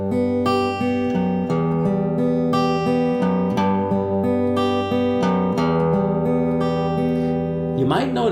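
Guitar fingerpicks a song on the highest three strings, with a clear, steady arpeggio of plucked notes ringing close, then a brief rustle and a voice starting at the very end.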